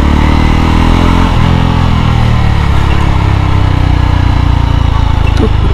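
A Yezdi Roadster motorcycle pulling away in first gear, its engine thumping loudly up close, with a short rev as it moves off and a steady running note afterward. No one speaks.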